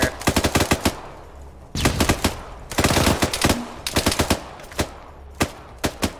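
Machine gun fire in the Arma 3 video game, loud close bursts of rapid shots in several rhythmic volleys, followed by a few scattered single cracks near the end.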